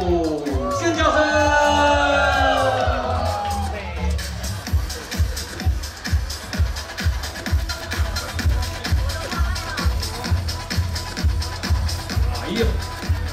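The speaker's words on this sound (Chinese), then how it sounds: "尖叫声。" Audience at a JKF runway show screaming and cheering for a model walking out, a loud swell of whoops and shouts that fades after a few seconds into rhythmic clapping and crowd noise.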